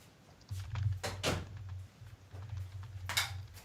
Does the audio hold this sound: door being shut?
yes